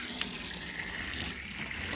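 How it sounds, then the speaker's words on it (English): Steady water spraying from a hose onto a car coated with a quick-coat protectant, a continuous broadband hiss and splatter close by with no talking. "I'm going to turn the water on."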